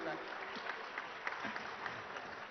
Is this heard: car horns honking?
no